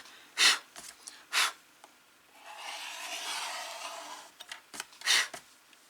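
A cutter blade scrapes lint out of a groove in a handmade card with a soft, sustained close scratching lasting about two seconds, framed by a few sharper brief rubbing strokes.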